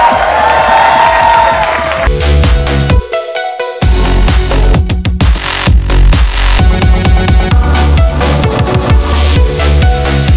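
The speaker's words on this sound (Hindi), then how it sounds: "जोरदार तालियां हो जाए." At a Bollywood song launch event, an audience cheers and applauds throughout under loud, pounding music. The crowd noise stays steady and blends with the beat.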